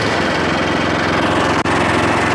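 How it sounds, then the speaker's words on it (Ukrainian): A WEIMA WMX663 mulcher's engine runs at raised revs, a loud, steady, buzzing drone with a brief dip just past the midpoint. "Тепер я додам обертів"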